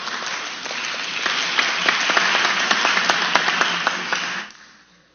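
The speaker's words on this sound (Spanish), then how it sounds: "La recibimos con fuerte voto de aplausos." Audience applause welcoming a speaker at an education forum, steady dense clapping with a few sharp claps standing out, holding loud for about four seconds before fading quickly to quiet.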